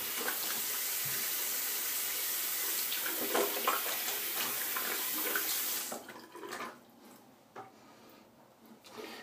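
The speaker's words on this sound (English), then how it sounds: "Let's get a little water on my face." Tap water running steadily into a sink while a man wets his face during a shave, a loud continuous hiss that cuts off around six seconds, followed by small splashes and faint handling sounds.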